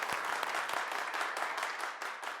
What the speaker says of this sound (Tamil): ஒரு பெரிய கைத்தட்டல் கொடுங்க